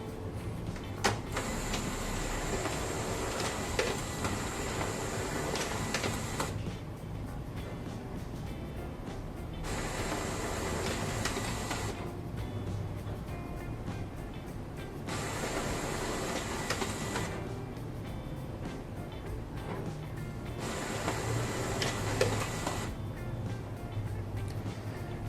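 An HP Color LaserJet Pro MFP 430 laser printer scans a document in repeated cycles, with a steady motor whir broken by high-pitched passes roughly every five seconds, close and continuous.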